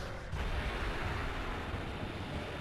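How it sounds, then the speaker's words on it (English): A big explosion in Monster Hunter 4 Ultimate during a hunt against Gogmazios, heard as a sudden burst that opens into a dense, roaring rumble of broad noise sustained loudly to the end, without talk. "That's a big explosion"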